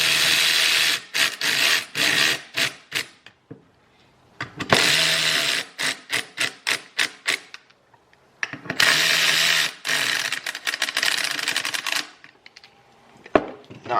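Bolts on a sedan are tightened with a power tool, heard as several bursts of rapid whirring and ratcheting separated by quiet pauses, close and fairly loud.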